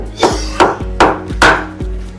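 A hammer lightly taps a gearbox part during disassembly: five sharp, evenly spaced metallic knocks in about two seconds, close and loud, each with a short ringing tail.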